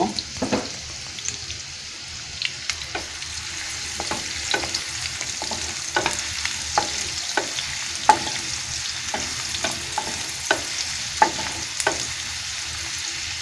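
Chopped onion fries in ghee in a pan for beef korma, a soft continuous sizzle broken by repeated scraping stirs of a spoon, close and moderately loud.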